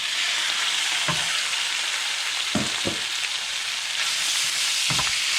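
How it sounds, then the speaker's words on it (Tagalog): Pork belly frying in a pan, a loud steady sizzle and crackle that fills the clip, with a few soft stirring knocks close by and no talking. "ngayon isusunod natin yung ating pork belly"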